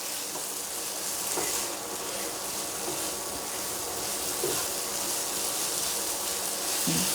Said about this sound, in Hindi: देखिए मैं इसको अच्छे तरीके से मिक्स कर रही हूँ।